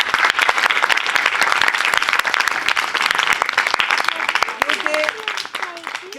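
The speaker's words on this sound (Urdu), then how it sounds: "تالیاں بجاؤ" Children clap together at a Christmas ceremony held under the Benazir Income Support Programme, a loud, continuous burst of applause that fades slightly toward the end, with a few voices faintly audible beneath.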